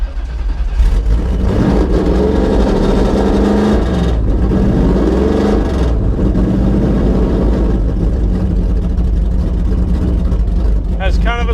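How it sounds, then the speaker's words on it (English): A 2010 Ford Mustang Cobra Jet drag car, built to about 1,300 horsepower, fires up and runs with a loud, raw exhaust that roars steadily close by, its pitch rising and falling with throttle blips. "You won't need any help hearing the exhaust."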